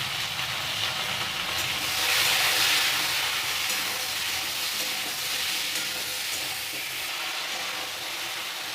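Broad beans fry in a pan with turmeric and salt for a bean, mustard and poppy seed dish, giving a steady, close sizzle that stays loud throughout with no talking.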